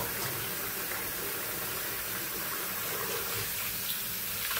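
Meat being washed under a running kitchen tap, a steady loud rush of water splashing into a sink without pause.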